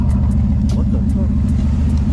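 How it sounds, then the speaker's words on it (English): A 1999–2006 Chevy Silverado truck sits nearby with its muffler exhaust giving a steady low rumble, a close, even engine drone with a few faint ticks on top, while voices talk over it. "Oh, there's that muffler."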